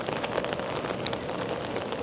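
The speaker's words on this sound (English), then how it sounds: "As I said, it's raining here." Steady rain falling during an evening walk through a city in BGC, a dense close hiss of drops hitting surfaces with no pauses.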